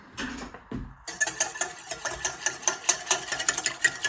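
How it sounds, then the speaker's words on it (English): A whisk stirs active starter briskly into a mixture in a bowl, a fast rhythmic scraping and tapping that runs steadily after a brief pause and some handling noise. "I'm just going to whisk this in"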